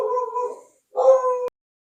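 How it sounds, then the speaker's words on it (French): A female dog near a window vocalizes at a neighbour outside: two close, loud, drawn-out whining yelps, the second cut off abruptly, with a short silence between them. "excusez-moi à nouveau pour mon chien qui aboie"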